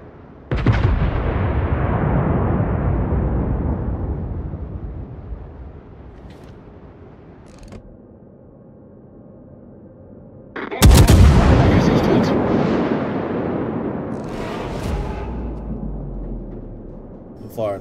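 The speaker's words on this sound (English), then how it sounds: "I'm firing HE on my hipper" Heavy naval gunfire from the German cruiser Hipper in World of Warships, HE shells: two loud booming salvos several seconds apart, each with a long rumbling decay, under faint game ambience.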